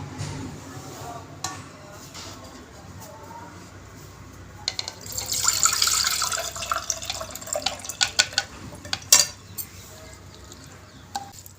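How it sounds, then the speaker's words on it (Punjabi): Water runs and splashes in a sink while grated potatoes are rinsed by hand, with bursts of sloshing and clinks, no talking. "ਆਲੂਆਂ ਨੂੰ ਚੰਗੀ ਤਰ੍ਹਾਂ ਇਸ ਤਰ੍ਹਾਂ ਧੋ ਲਾਂਗੇ"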